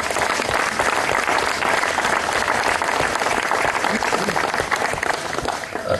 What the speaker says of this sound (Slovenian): prosim za en aplavz za nastopajoče